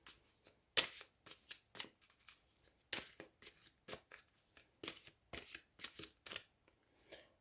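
Tarot cards are shuffled by hand in a quiet room, with a steady series of crisp riffling bursts and short pauses between them, close and with no talk.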